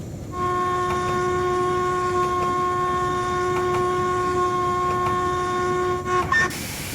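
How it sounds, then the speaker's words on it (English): A steam locomotive whistle on the Bala Lake Railway in Train Simulator sounds as one long, loud, steady tone held for about six seconds before cutting off with a short break at the end. "Let's see how the whistle looping is."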